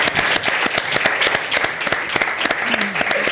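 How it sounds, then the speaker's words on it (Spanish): A live studio audience at a quiz show breaks into brisk, full applause for a contestant, dense clapping filling the room with a brief voice surfacing under it. "Un aplauso para Javi"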